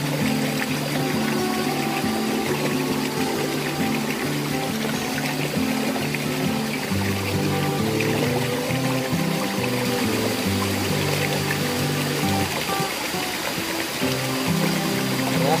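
Water pours and splashes steadily and continuously onto fishing bait, a close, full gushing sound with no voices.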